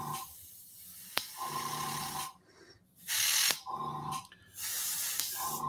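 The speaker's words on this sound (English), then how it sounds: "spray paint some more ultra matte." Airbrush spraying ultra matte medium onto a mixed media painting, with several bursts of loud, close hissing separated by short pauses and quieter airflow.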